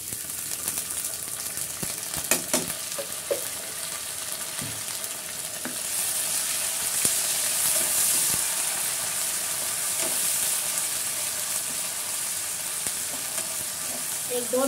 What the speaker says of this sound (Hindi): एक दो मिनट तक अच्छी तरह फ्राई करेंगे इसको, ताकि इसकी जो कच्ची स्मेल रहती ना वो चले गएगा।